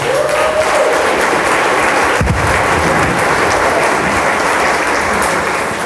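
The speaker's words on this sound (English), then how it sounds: "So let's give him a round of applause." An audience at a talk on content marketing gives a dense, loud round of applause that holds steady throughout, with a brief thump partway through and no speech.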